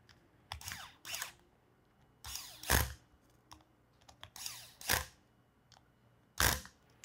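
A power screwdriver briefly driving screws into a travel tripod ball head, heard as several short whirring bursts separated by quiet gaps, close and fairly faint.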